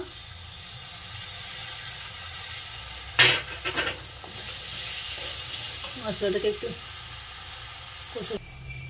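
Spice paste with cumin fries in a pan, a soft steady sizzle with bursts of scraping and stirring clatter partway through, close and moderately quiet.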